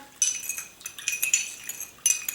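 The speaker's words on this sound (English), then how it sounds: "Give that a quick stir" A spoon stirs sugar and salt into rice wine vinegar in a glass or ceramic bowl, giving quick, repeated high clinks and scrapes against the sides, close and fairly quiet, with no talking.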